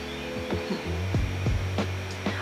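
A sewing machine stitches down the outside leg seam of a pair of cargo pants, a steady humming motor whir broken by sharp, regular mechanical clicks, close and without talk.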